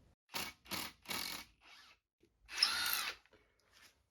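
A power drill whirs in three quick short bursts, then a longer run, as it drives a screw using a homemade flathead bit with a hex fitting. It is close and clear, with quiet pauses between bursts.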